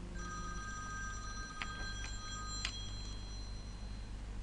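A telephone rings during a tutoring lesson with a few electronic trills, faint and steady over a low room hum. No one speaks during the ring.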